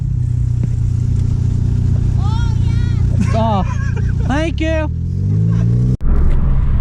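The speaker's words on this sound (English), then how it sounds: "That exhaust is shredded and it's still hanging on for dear life." Hyundai Veloster with a shredded exhaust hanging loosely underneath, a steady low engine and exhaust rumble running throughout while someone talks and laughs over it.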